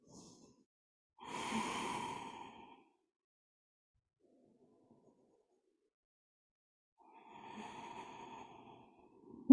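Slow, deep breaths taken in a resting yoga pose, two long audible exhales separated by a quiet pause and a faint inhale, close to the mic with no talking.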